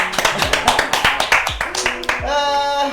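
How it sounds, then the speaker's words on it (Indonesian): A small group claps at the start of a live podcast recording: a quick run of distinct, close handclaps, uneven in rhythm, before a voice begins speaking at the end. "Tepuk tangan dulu Bapak ya"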